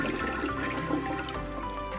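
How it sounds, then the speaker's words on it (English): A toilet flushing in a bathroom, a steady rush of water running throughout at moderate volume with no voices. "I flush."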